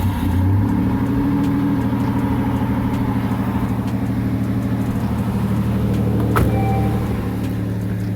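An Isuzu Trooper engine idles steadily after a throttle body repair, a close, even low rumble with one brief sharp knock near the end.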